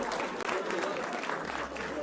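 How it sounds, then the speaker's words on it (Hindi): A live audience at a public talk breaks into sustained, dense applause, a close wash of many hands clapping at once, with a voice speaking over the top. "अरे आप लोग ताली बजा रहे हैं"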